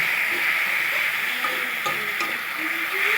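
Mushrooms and onions fry in a pan, making a loud, steady hiss with soft stirring scrapes throughout.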